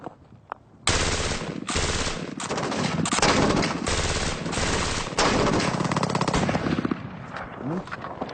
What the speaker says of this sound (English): Now, let's unleash the IAR in full auto.